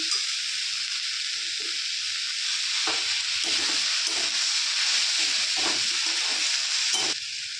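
Pumpkin greens fry in oil in a pan, giving a steady loud sizzle and hiss, with a few soft scrapes and knocks as the vegetables are stirred, close by and with no voices.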